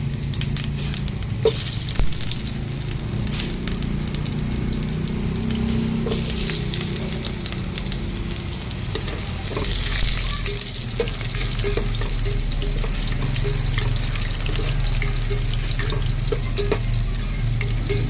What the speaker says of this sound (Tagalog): magigisa na tayo ng unahin natin yung ating luya